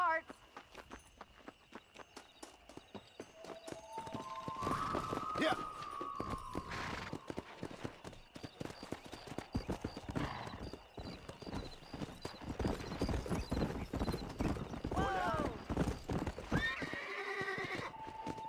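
A horse in Red Dead Redemption clip-clops along at a steady pace, hooves thudding rhythmically throughout, with a neigh and whinny rising midway and spoken dialogue over the riding.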